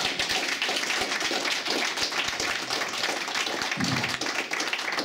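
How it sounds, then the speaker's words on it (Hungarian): Wedding guests applaud inside a church at a wedding ceremony in Tatabánya: dense, steady clapping from many hands fills the space, sustained from start to finish with no break. "úgyhogy őt is tapsoljuk meg."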